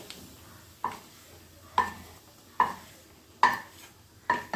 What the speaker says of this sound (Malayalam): ഇനി നമുക്ക് തേങ്ങ വറുത്ത് കോരാം.